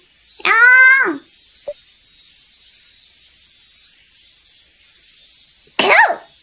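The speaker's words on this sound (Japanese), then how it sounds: "くしゃみが出てしまいました。" Two sneezes, loud and close, one near the start and another a few seconds later, separated by near silence apart from a tiny click and a steady background hiss.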